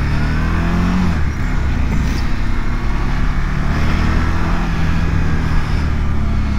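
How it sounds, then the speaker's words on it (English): A 2021 Suzuki V-Strom DL1050 motorcycle engine drones smoothly and steadily while riding, a loud, continuous hum with wind rush and no talking. "Lovely smooth engine."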